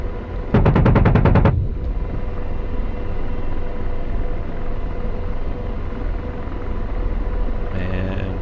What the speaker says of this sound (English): Now we can go ahead and fire the gun.